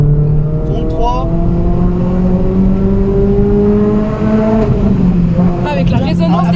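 A Renault Clio 3 RS engine revs loudly between rocky walls, its harmonic whine climbing through gears and echoing back, with a voice speaking over it near the end.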